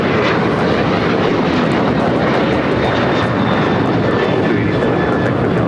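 An airliner roars down runway 25 right at LAX on takeoff, a loud, steady broadband engine rush that holds constant throughout.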